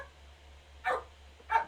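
Two short, sharp dog barks ring out about half a second apart from a little distance, over a quiet room with a low steady hum.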